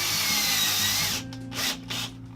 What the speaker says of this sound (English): You don't have to have this type of drill that you see I'm holding.